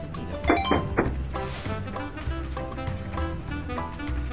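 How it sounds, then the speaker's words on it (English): A lever clunks in A Hat in Time with a few short mechanical thunks close together near the start, followed by a steady low rumbling hum. "That lever you just pulled, it starts the train self-destruct sequence"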